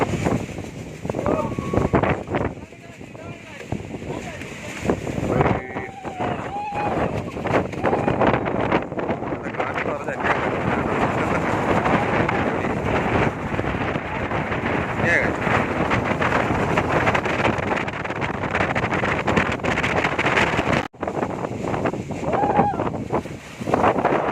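Strong gusty wind buffets the microphone at a hilltop viewpoint at Ramakkalmedu, roaring steadily and loud throughout, with people talking over it.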